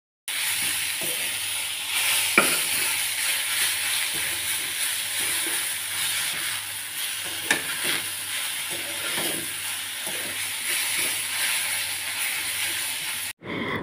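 Leafy greens fry in a pan with browned onion and garlic, giving a steady close sizzle and hiss. Occasional scraping and stirring knocks break through the sizzle, and no one speaks.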